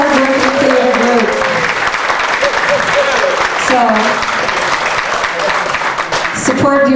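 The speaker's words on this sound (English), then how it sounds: "Let's give her a round of applause." At the Robby Award event, a theater crowd gives sustained, loud applause for Maggie Larrick, director of Burion Little Theater, with voices and cheers mixed into the clapping throughout.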